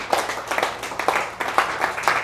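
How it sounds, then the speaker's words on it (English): Audience applause at a scholarship award ceremony in Ajegunle, a crowd clapping steadily for the organizing team, with dense continuous patter and small swells throughout. "Please, another round of applause for them."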